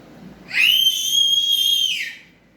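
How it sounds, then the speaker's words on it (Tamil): A shrill whistle blown once in a single sustained blast of about a second and a half, loud and close, rising sharply at the start and tapering off at the end, with no voices. "அதான் அப்பப்போ விசில் அடிக்குது"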